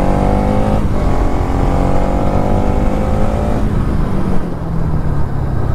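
A 2023 Bajaj Pulsar NS200 motorcycle being ridden and slowed with the rear brake; loud steady engine drone up close, its pitch falling gradually as the bike decelerates.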